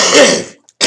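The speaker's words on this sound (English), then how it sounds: "That's why I'm coughing." A single harsh, close cough or throat-clearing from a man who has been smoking, loud and raspy, followed after a brief pause by a second short burst.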